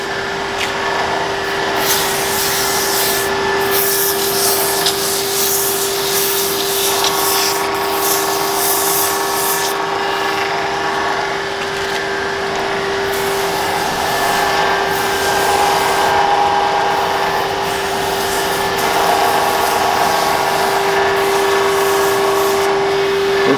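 Abrasive paper rubs steadily against a spinning woodturned fruit shape on a lathe, a continuous loud hiss over the constant motor hum with no pauses.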